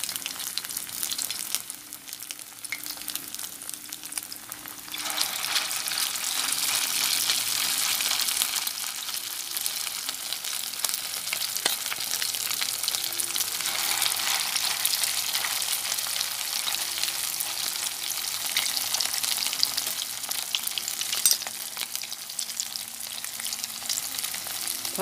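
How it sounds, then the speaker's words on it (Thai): Thai pork fish cakes (tod man) deep-fry in oil on low heat with a steady close bubbling sizzle that swells after a few seconds and carries on alone. "ทอดไฟอ่อนๆไม่ต้องไฟแรงนะคะ"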